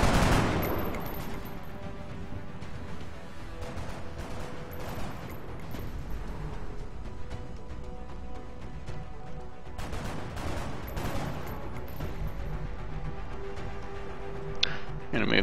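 Sustained suppressive gunfire in XCOM: Long War, dense crackling volleys that swell at the start and again near ten seconds over a constant battle bed, with speech-like game voices mixed in.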